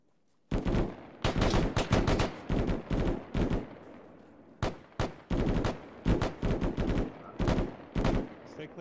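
Bursts of .50 caliber machine gun fire in the military shooter Arma, loud repeated volleys separated by short pauses, sharp and close against a quiet background.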